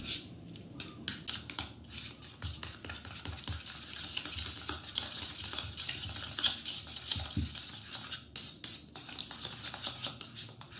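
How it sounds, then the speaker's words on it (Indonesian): Steady stirring and scraping of a thick no-knead bread dough mixture in a bowl, with soft, irregular sticky squelches continuing throughout, no voices. "Aduk hingga tercampur rata."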